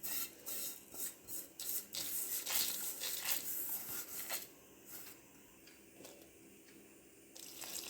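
Water pours and splashes into a mixer grinder jar holding grated ingredients in uneven bursts, with rubbing and scraping noises between, close by and fairly quiet.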